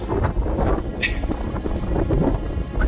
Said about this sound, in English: The wind's been blowing 40 miles an hour today.